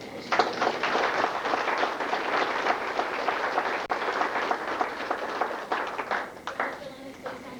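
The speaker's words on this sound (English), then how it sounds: "begin a round of applause for the" Applause at an FFA chapter awards banquet, a crowd clapping in a moderate, uneven patter that thins out toward the end.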